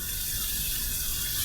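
Cold tap water runs steadily and evenly over an alum block, a continuous close, moderately loud rush with no pauses.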